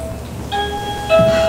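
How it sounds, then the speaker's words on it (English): A doorbell chimes twice, two short ringing tones a moment apart, heard indoors with no talking. "There's that doorbell again."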